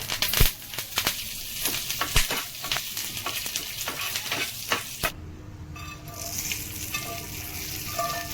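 Oil sizzles and crackles loudly as dried red chilli, asafoetida and curry leaves hit the pan, with sharp pops and stirring clinks, then settles into a steady frying hiss.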